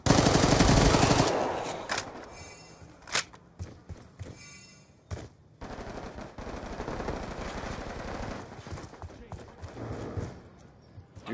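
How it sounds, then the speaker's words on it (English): Rapid, sustained minigun fire from the Death Machine in a multiplayer shooter video game, with a loud opening burst and then dense overlapping gunfire and game effects, intermittent voices in the mix. "Death machine spinning up."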